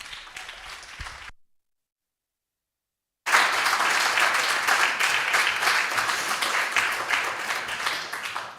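A short burst of clapping, a brief silence, then loud sustained applause from a large audience at a science and research day conference, fading slightly toward the end.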